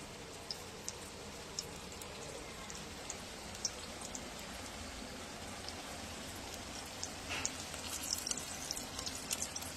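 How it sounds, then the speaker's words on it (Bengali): Pointed gourd (potol) frying in oil in a pan, a steady crackling sizzle with scattered sharper pops throughout, continuous and moderately loud with no voices. "পটল ভাজছে"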